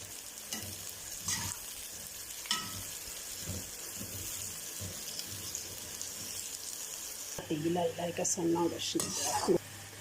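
Onions frying on full flame until light golden for degi chicken korma, with a steady sizzle broken by scraping spoon strokes against the pot, growing louder and busier with clattering stirs near the end.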